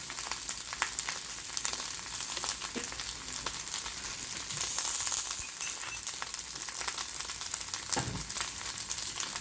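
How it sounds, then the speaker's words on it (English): Minced garlic sizzling in a frying pan while Ram-Don noodles are being made, a steady crackling fry that runs unbroken the whole time, close and fairly loud, with no talking. "I'm going to add a little bit of minced garlic in there."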